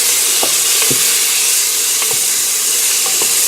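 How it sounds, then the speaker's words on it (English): Tomato paste and green curry paste fry loudly in a pan with garlic, a dense, constant sizzle and hiss with a spatula scraping through it every half second or so, close up. "we are cooking down the tomato paste and the green curry paste"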